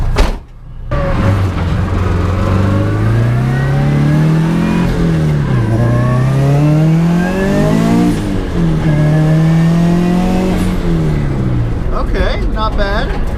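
A turbocharged FRS car accelerating hard, its engine note climbing steadily in pitch, briefly dropping at gear changes and then rising again, loud and close throughout.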